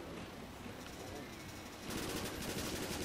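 Rapid automatic P90 fire in a Call of Duty zombies game on the Dollhouse map, a steady dense rattle that grows louder partway through and continues without a break.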